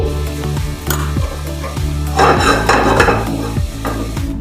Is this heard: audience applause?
no